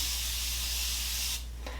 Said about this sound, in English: I use the Morphe Continuous Setting Spray.